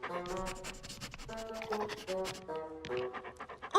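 A cartoon dog pants in quick, light breaths over a bright musical backdrop, fairly close and modest in level.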